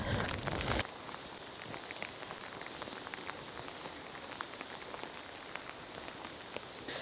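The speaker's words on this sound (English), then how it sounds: "it may have started raining horribly" Heavy rain pours steadily on a public footpath under trees in Wales, a dense patter with scattered sharper drops, after a brief louder burst at the start.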